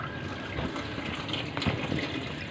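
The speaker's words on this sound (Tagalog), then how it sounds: "Tapatan nyo lang siya guys ng tubig, ganito mo lang siya." Tap water runs steadily over a Carrier Optima air conditioner filter as it is rinsed, a close, continuous splashing gush with slight shifts in the flow and no talking.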